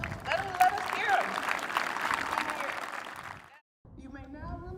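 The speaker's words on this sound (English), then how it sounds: "Give a round of applause to Mason." Crowd applause for Mason, a student killed in a car crash, at a memorial send-off: sustained loud clapping and cheering from a large gathering that fades out abruptly, followed by a voice speaking.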